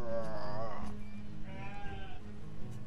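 Sheep in the village-building game Banished bleat twice, a loud wavering call followed by a softer, shorter one, over light game ambience.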